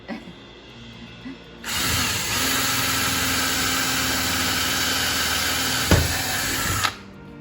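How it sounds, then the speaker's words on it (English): A power drill whines loudly and steadily for several seconds after a quiet start while drilling through a cabinet door for bar pull holes, then cuts off abruptly. "So do I have to drill all the way through?"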